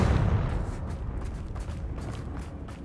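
The Confringo fire spell goes off in Hogwarts Legacy as a deep, loud explosion, its low boom rolling on and slowly fading with crackling debris over a few seconds.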